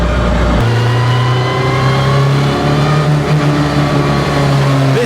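A Toyota MR2 fitted with a turbocharged K24 engine producing over 600 bhp gives a loud blip of revs and then a sustained, rising engine note. The engine is heard up close inside the car with no talk.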